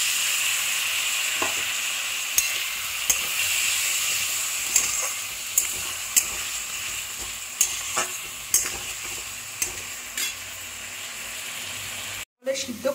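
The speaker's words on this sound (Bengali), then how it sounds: "দিয়ে দিলাম হলুদের গুঁড়ো, দিয়ে ভালো করে আবার নাড়িয়ে নিচ্ছি, মানে কষিয়ে নিচ্ছি" Turmeric powder being sautéed in a pan for a prawn curry with potatoes and jackfruit seeds: a constant hiss of frying under regular spoon knocks and scrapes against the pan, ending in a brief cut.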